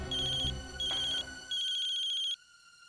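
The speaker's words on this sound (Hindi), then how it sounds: "किसका फोन है?" An electronic phone ringtone trills in two short bursts and then a longer one, loud and close, with quiet room tone between rings.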